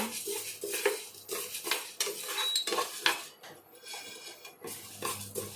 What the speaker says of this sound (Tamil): கடலையை போட்டு வறுத்துக்குங்க